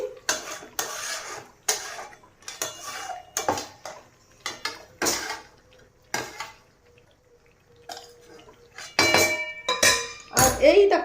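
Chicken sautés in a pan as a utensil stirs and scrapes it in repeated bursts of metallic clinks and scraping, close by, with a low sizzle between strokes and some talk nearby.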